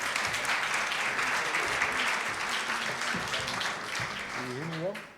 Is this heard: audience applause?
yes